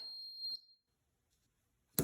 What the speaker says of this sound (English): Now at 3:05, this buzzer is going to go off.